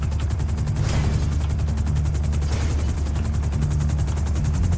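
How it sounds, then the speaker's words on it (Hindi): Spawned helicopter in GTA V, its rotor beating in a fast, steady thump with a constant engine drone, loud and close throughout. "हेलीकॉप्टर हम लोगों ने यहाँ पे स्पॉन किया है"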